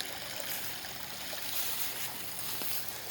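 Water from an artesian well tumbles and trickles over small drops into a wetland fish pond, a soft, continuous splashing hiss heard from nearby without any voices.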